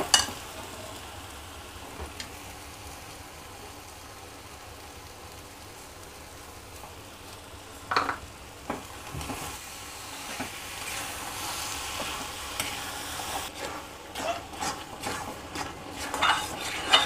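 Carrot halwa cooking in a pan on high flame while it is stirred, giving steady soft sizzling and occasional scraping and clinking of the spoon against the pan, louder in short bursts near the middle and end.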